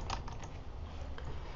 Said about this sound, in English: Let's just erase it using backspace, Ashley.